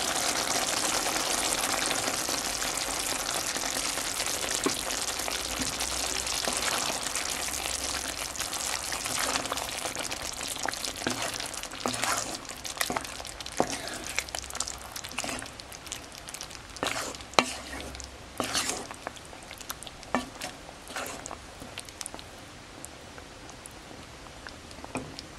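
Beef stroganoff with heavy cream simmering in a pan, a steady close sizzle and bubble with scattered sharp pops and spoon clicks throughout, fading slightly toward the end.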